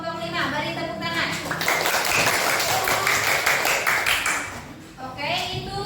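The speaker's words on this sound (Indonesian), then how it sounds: "Terima kasih untuk kelompok 5. Beri tepuk tangan." A classroom group claps for the fifth group after its presentation: a dense burst of applause of about three seconds, with a teacher's voice just before and after.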